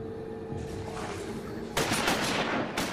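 Rapid bursts of gunfire aimed at a glowing orb during a sea serpent battle in Final Fantasy XIV, loud and dense, jumping sharply in intensity partway through with no talk over it.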